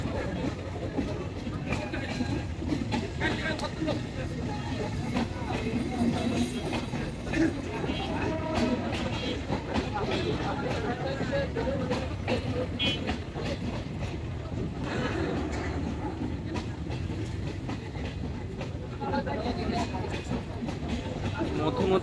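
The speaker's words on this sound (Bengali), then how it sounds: "আপনারা দেখতে পাচ্ছেন আর রেল ক্রসিং হচ্ছে।" The Madhumati Express rolls through a busy rail crossing with a loud, continuous rumble and clickety-clack of wagons lasting throughout. Crowd voices and street noise mingle beneath it.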